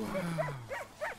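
Dogs from an Arctic sled dog team give a few quick barks and yips, about four short calls spaced at a moderate distance, moderately loud against quiet outdoor air.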